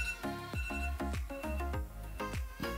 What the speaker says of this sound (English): Okay, that's my alarm.